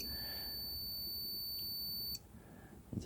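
While a Swytch e-bike controller is being probed, a steady high-pitched electronic beep holds continuously for about two seconds and then cuts off, leaving faint background hiss and a small click.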